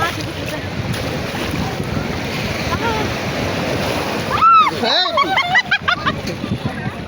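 Sea waves washing and splashing near a boat, with heavy wind buffeting the microphone and people talking close by.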